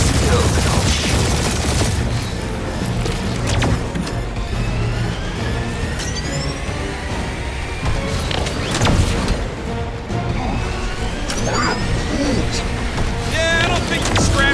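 Bursts of gunfire in Marvel's Guardians of the Galaxy game combat, dense and continuous under a busy mix of effects, music and character voices talking throughout.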